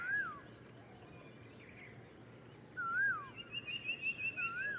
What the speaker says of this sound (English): This is still the common iora.